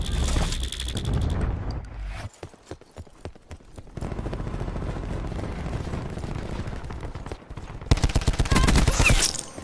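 Cluster grenade blasts in Black Ops 4 go off as a rapid string of sharp, clattering bursts, loud and close, with a quieter rumbling gap and a final flurry of detonations near the end.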